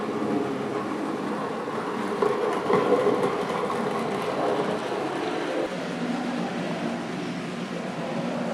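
A steady rumbling rattle of a model train running on a folding model railway's track continues throughout at an even, moderate level, with no talking.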